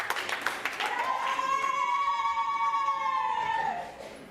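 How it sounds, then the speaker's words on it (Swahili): A church congregation claps together, a dense spread of applause with a sustained tone ringing over it, fading toward the end. "Jipigeni makofi basi."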